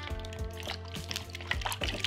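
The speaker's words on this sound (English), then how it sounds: "Run this through cold water." Cold tap water runs and splashes over cut potatoes in a bowl during kitchen prep. The sound is a soft, steady trickle with small clinks and drips, faint and close.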